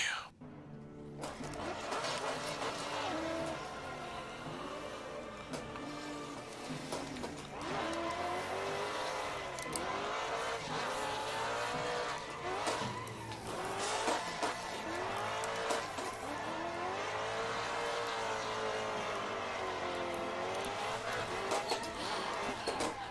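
A drift car understeering on still-cold tires during a tandem session, engine revving and wavering with tire squeal rising and falling over about twenty seconds, fairly distant and muffled.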